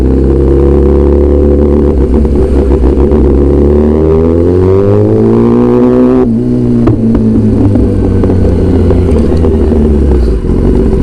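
A Kawasaki ZX10R superbike engine runs loud and close, revving with rising and falling pitch, climbing steadily before easing back down and then building again.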